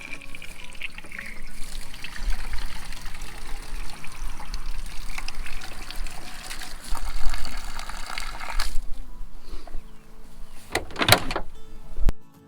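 Water pours steadily into a bucket to fill a field herbicide sprayer, a continuous close splashing wash for most of the stretch, ending in a brief louder burst near the end.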